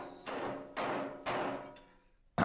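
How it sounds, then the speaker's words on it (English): Three loud, evenly spaced blows of a hammer driving a nail into wood ring out close by with a metallic clang, each decaying briefly, followed by a sharp final knock. "The sound of metal being struck against metal is heard loudly."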